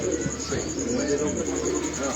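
Pigeons coo in soft, low throaty bursts, several birds overlapping close by on a rooftop against a busy background.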